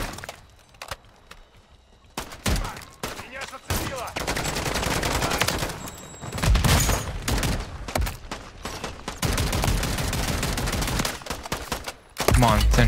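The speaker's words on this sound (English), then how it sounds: "Come on, sentry gun. Help me out here." An automated sentry gun in the Modern Warfare Zombies game fires long, dense bursts, loud and close, alongside other gunfire and game effects, with brief pauses between volleys and occasional speech.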